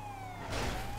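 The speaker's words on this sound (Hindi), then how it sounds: "सायरन शुरू करके भाग रहा है ब्रो" A police car siren in the video game GTA 5 wails with a steady rising and falling tone under engine rumble, briefly swelling in loudness about halfway through.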